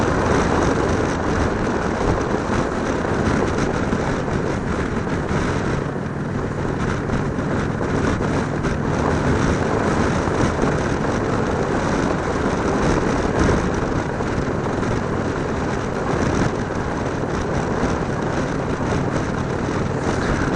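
A 2017 Indian Roadmaster motorcycle cruises in high gear, its engine a constant loud drone buried in heavy wind rush, unbroken for the whole stretch with no talking.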